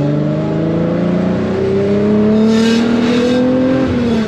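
Volkswagen Golf VR6 engine revving steadily while driving, a loud, close, continuous drone that climbs gradually in pitch before dropping briefly near the end, with no talk.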